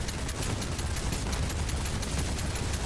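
Nonstop rumble of bombs going off all around in Fortnite Save the World, a dense, steady crackling roar of overlapping blasts with no clear gaps.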